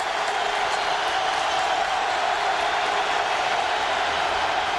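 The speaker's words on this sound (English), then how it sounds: "And the crowd is roaring." Steady, loud crowd roar filling a football stadium as Detroit Lions play Buffalo Bills in 1997, a continuous wash of massed voices without breaks.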